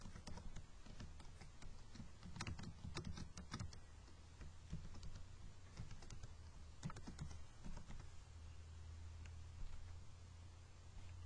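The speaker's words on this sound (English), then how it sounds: "This is where you'll type in that username and password you use to connect to" Keys on a computer keyboard are typed to enter a username and password for SQL Server authentication, giving irregular bursts of close, crisp clicks over a steady low background hum.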